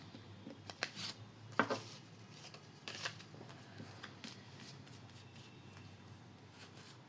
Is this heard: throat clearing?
no